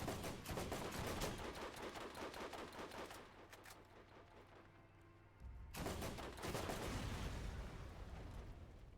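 Enemy gunfire in the video game Borderlands, a dense stream of rapid shots that briefly drops to a low rumble before another loud burst of automatic fire resumes, close and forceful.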